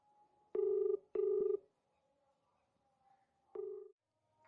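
A telephone ring tone repeats in short, evenly spaced bursts with silent gaps between, sounding through a phone line with no answer.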